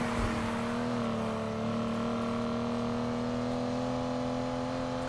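Racing car engine in Need for Speed Heat, a steady sustained drone with a rising whine as the car accelerates on the final lap, loud and continuous with no voices.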